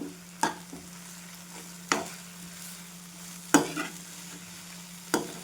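Drumstick flower vegetable stirs in a pan, a spoon scraping in four sharp, evenly spaced strokes over a soft background sizzle and a faint steady hum, with no talking.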